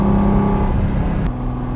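A 1974 Ferrari 246 GTS Dino with its mid-mounted V6 running, a loud, close, steady engine drone that eases slightly in the latter half.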